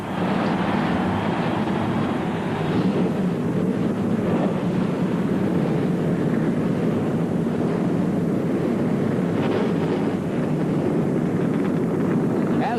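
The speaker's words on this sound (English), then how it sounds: "The 33-car field roars to life." A 33-car field of NASCAR stock cars starting their engines together at the 1991 Valleydale Meats 500, producing a loud, dense, continuous roar with a rumbling low end that holds steady and never lets up.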